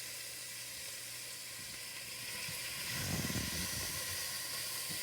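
Onions cook in a pan over medium heat with a continuous faint, hissing sizzle that swells slightly midway.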